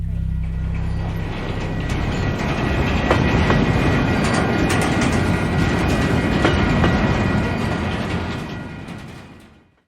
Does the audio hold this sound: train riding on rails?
yes